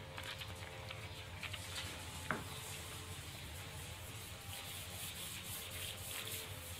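Fine 1200-grit sandpaper rubs steadily against a MacGregor 26 sailboat hull, a soft continuous scratchy hiss with faint rhythmic strokes and a small knock partway through.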